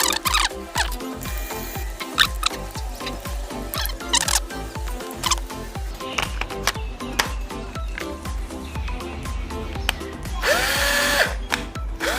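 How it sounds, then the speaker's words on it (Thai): A repaired electric screwdriver with a replaced motor runs in a workshop, a loud close whirring motor with rapid rhythmic clicking and a brief higher squeal near the end, no talking. "แล้วก็ได้ไขควงไฟฟ้ากลับมาใช้ได้ดีเหมือนเดิม"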